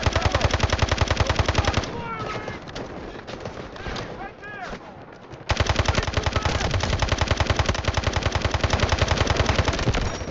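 Rapid automatic gunfire in the video game Delta Force comes in close, loud, rhythmic bursts, breaks off briefly for other game sounds, then resumes in steady rapid fire.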